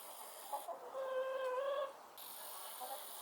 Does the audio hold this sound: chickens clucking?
yes